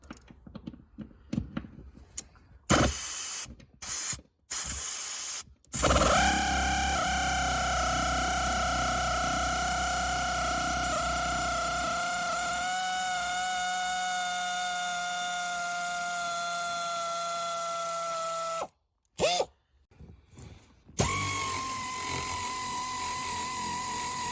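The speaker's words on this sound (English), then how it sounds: "bought this little air ratchet" An air ratchet removing the seat bolts in a 2018 Chevrolet Silverado gives a few short bursts, then a long, loud, steady whirring whine lasting over ten seconds, followed by more brief bursts.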